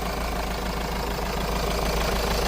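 A steady, continuous Mahindra Thar engine idle rumbles at close range, a low even drone without pauses or voices.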